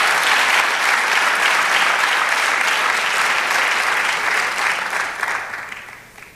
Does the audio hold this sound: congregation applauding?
yes